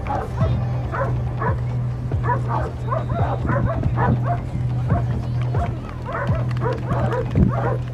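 A police sniffer dog barks repeatedly during a drug-detection demonstration, loud close yips and barks in quick bursts over a steady low hum, with a voice speaking now and then.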